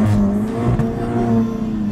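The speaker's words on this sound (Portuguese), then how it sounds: "na curva, quando você virar, você acelera no máximo" An Audi TT's engine drones loud and close under hard acceleration through a curve, a steady rising roar with a slight whir and no voices.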